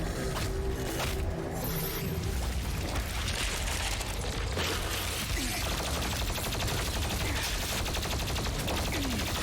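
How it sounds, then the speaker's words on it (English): Gunfire from a video game trailer at E3, dense crackling bursts sustained throughout at steady loudness with no pauses, as if played back through a stream. "Oh, cool, shot off the gun."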